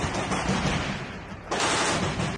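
Rapid gunfire in a battle at the Azovstal steel plant, a dense crackling barrage that eases slightly then surges louder near the end, with no voices.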